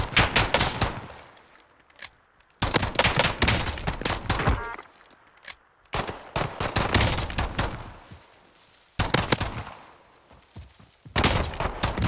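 Rapid bursts of automatic gunfire from the Call of Duty Warzone video game, loud and close, arriving in several clusters of repeated shots separated by short quieter pauses.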